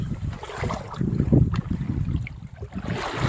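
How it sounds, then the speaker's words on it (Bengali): Strong wind on a river buffets a small fishing boat in the Sundarbans, giving a loud, gusty low roar with rumbling microphone buffeting and occasional water slaps, with no voices heard. "আজ হাওয়া দিচ্ছে, খুব জোরে হাওয়া দিচ্ছে"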